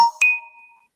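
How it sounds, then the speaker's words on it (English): A phone gives a single short notification tone: a soft attack, then a bright chime that rings and fades out over under a second, heard alone. "That was an interesting little tone from a phone."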